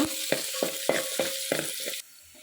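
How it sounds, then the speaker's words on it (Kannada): Sliced onion and crushed garlic fry in a pan with crackling mustard seeds for a village-style seege soppu bassaru, sizzling close up, with a run of rhythmic stirring scrapes before the sizzle drops suddenly quieter. "ಕುಯ್ದಿಟ್ಕೊಂಡಿರೋ ಬೆಳ್ ಈರುಳ್ಳಿ ಜಜ್ಜಿದ್ರೋ ಅಂತ ಬೆಳ್ಳುಳ್ಳಿನ ಹಾಕಿ ಒಂದೆರಡು ನಿಮಿಷ ಚೆನ್ನಾಗಿ ಫ್ರೈ ಮಾಡೋಣ"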